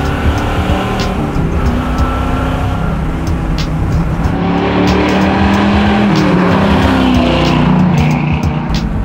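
Restored 1970 Chevy Camaro muscle car engine roaring loud and close from inside the cabin, a continuous rumbling drone with rising revs and shifting pitch throughout, no talking heard.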